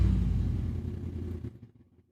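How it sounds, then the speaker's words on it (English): A car passes loudly on the street outside, a broadband engine and tire rumble that fills the first second and a half, then fades quickly to near silence. "That was a car."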